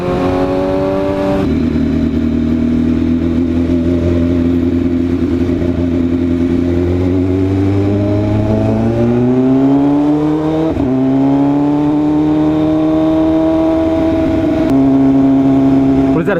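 A Kawasaki ZX14R motorcycle engine holds a loud, continuous drone, its pitch gliding upward, dipping briefly, then climbing again over about sixteen seconds.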